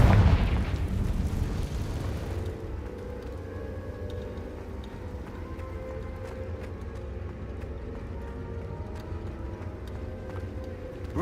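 In Hogwarts Legacy, the Confringo fire spell goes off with a loud, broad blast at the start. It fades into a long, low, steady rumble of background game ambience.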